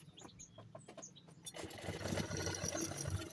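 A sewing machine stitching fabric cut from old pants, first a few scattered clicks and taps, then a continuous close mechanical whir that runs loud to the end.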